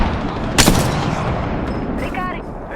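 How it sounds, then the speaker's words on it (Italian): A grenade blast and gunfire in the Apex Legends video game: one sharp, loud burst early on, followed by a steady bed of battle noise and a short ringing tone near the end. "Sparo sui soggetti. Lancio una granata."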